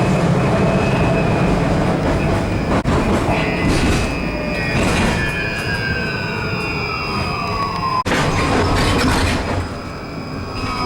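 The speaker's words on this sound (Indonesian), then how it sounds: "Saya masih di tram dan rencananya hari ini mau pergi ke tempat asuransi" Passengers ride inside a moving electric tram in Poland, with a loud steady rolling rumble, rising and falling electric motor whines, and a couple of sharp rail clunks, continuous throughout with no talking.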